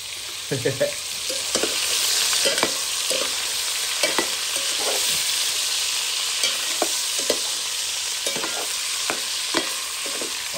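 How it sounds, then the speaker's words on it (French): Smoked sausages frying in a pan: a steady bright sizzle runs throughout, broken by repeated sharp clicks and scrapes of stirring. "les saucisses sont en train de bien cuire"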